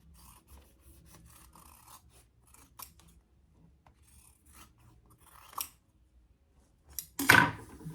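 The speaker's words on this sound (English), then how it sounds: "I probably will just trim it up a little." Scissors trim the edges of a handmade crossbody bag, soft intermittent snips and rasping cuts close by, ending in a louder brushing rustle.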